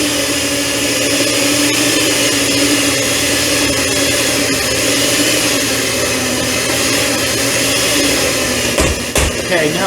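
An electric mixer whirs continuously and loudly while blending cream cheese frosting for a carrot cake, a steady motor drone throughout with a couple of brief clunks near the end.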